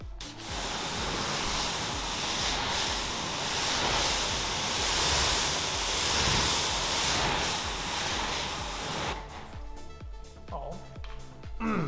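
A steady, loud hiss of water spraying rinses a screw clean, running continuously for most of the stretch before breaking into clattering, uneven splashes near the end.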